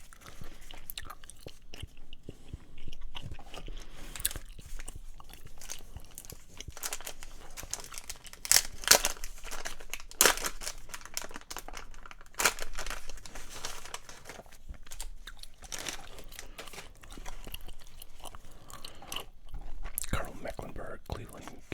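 Close, quiet gum chewing with soft wet smacks alongside crinkling and tearing of wrappers while 1989 ProSet Series 2 football card packs are opened, with intermittent whispered talk.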